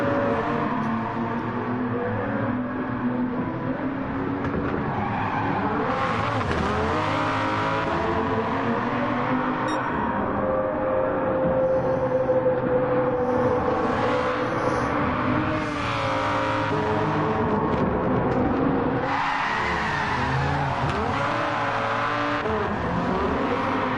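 A high-revving Viper sports car engine in Gran Turismo 4 screams through gear changes on Trial Mountain during a race, rising and falling in pitch with tire noise, loud and continuous with no talking.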